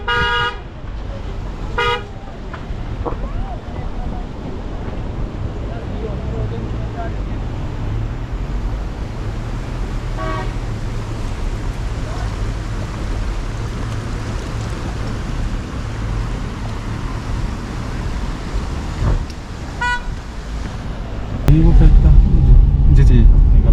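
Road traffic with car horns on the Naran to Hunza road in northern Pakistan: a steady drone of idling and passing vehicles, several short horn toots early and midway, and a louder rumble building near the end.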